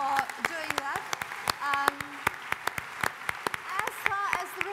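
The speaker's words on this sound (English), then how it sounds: "give him a big applause" A burst of audience applause with scattered sharp claps, rising and falling over a few seconds, with a voice speaking briefly over it.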